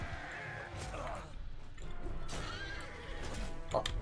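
A horse neighs in the game Mount & Blade II: Bannerlord amid the din of battle, with hoof clatter and crashing noises, and whinnies rising out of the mix several times.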